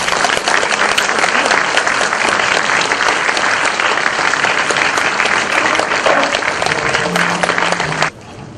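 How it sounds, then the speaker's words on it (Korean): Sustained, loud applause from an audience at an education superintendent candidates' policy debate greets a candidate, steady throughout before cutting off abruptly near the end. "박수로 안내해 주시기 바라겠습니다."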